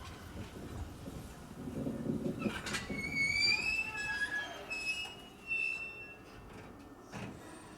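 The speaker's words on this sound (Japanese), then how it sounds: "線路がきしむ音まで聞こえます。" At night near a terminal station, a slow train's wheels and brakes let out high, wavering metallic squeals over low rolling rumble, with faint clanks; distant and quiet overall.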